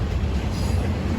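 A continuous low rumble of an empty auto rack rail car rolling past close by, steady and loud with no voices.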